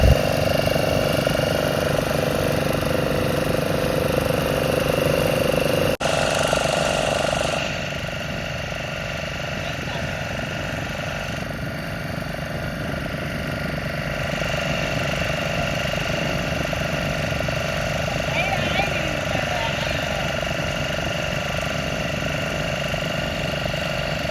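Diesel engine of a fishing net boat running continuously at sea, a steady throbbing drone that eases slightly in level partway through and stays constant.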